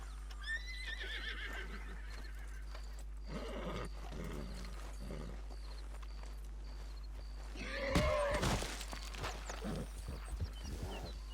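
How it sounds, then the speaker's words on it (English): A horse in Red Dead Redemption 2 neighs and whinnies with a few hoof clip-clops, fairly faint against steady game ambience, with a louder burst of neighing partway through. "Just trying to really help the horse, and the horse was rebelling, and I nearly ended up dead."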